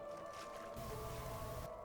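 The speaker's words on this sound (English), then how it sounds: "So we triggered the trap, but we didn't actually take any damage from it. It was a water trap." A water trap springs in a 2D rogue-style RPG video game, giving a gushing, squelchy watery whoosh with a low rumble. It cuts in sharply partway through, holds steady and loud, then ends abruptly over a faint background hum.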